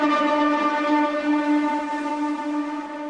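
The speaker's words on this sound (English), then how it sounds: "And then what I have is this distorted synth," A distorted synth from the Scorch preset Awesome Source holds a steady, buzzy harmonic drone with a strong low fundamental, loud and sustained throughout, with no voices.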